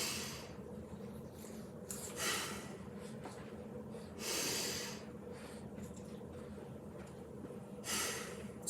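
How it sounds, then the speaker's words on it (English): Deep inhales through the nose during a mobility exercise session, three or four soft rushing breaths spaced a couple of seconds apart over a quiet room hum, faint and close. "big inhale, we're going nose breathing"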